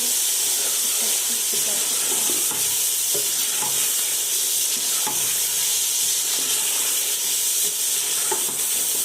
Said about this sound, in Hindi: तो हमने अच्छे से मिक्स कर लिया।